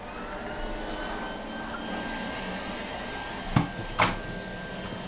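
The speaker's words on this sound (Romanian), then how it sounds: "ia, oprește aspiratorul" A household vacuum cleaner runs with a steady whining hum, mid-distance and fairly quiet, with two brief knocks near the end.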